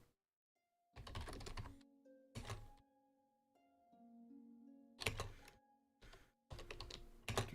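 Computer keyboard typed in quick bursts during a programming session, close and crisp, with pauses between runs of keystrokes over a soft background of steady tones.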